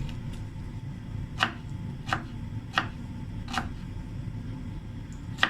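A few sharp, separate knife taps and crunches as garlic is pressed with a knife on a cutting board, spaced about a second apart over a low room hum.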